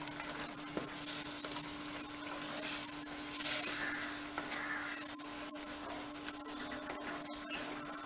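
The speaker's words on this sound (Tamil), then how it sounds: "இப்போ அரைச்ச விழுதை ஊற்றுவோம்." Ground spice paste for a prawn masala curry hits a hot pan, giving a steady broadband sizzle and hiss with a constant low hum underneath and a few small clinks, no talking.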